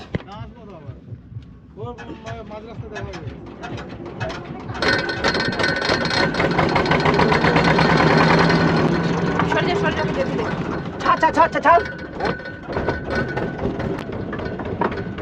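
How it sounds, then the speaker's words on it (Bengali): A boat engine on a Ganges river trip starts and then runs with a rough, rhythmic chugging that builds in loudness and holds steady, while people talk nearby. "স্টার্ট দেওয়া হচ্ছে মেশিন ভট ভট ভট ভট ভট ভট"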